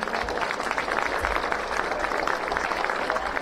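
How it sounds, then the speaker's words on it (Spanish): Audience applause at a political event, a steady crowd of many clapping hands at moderate loudness, slightly distant, with no voices rising above it. "Un aplauso por todos los compañeros que están aquí."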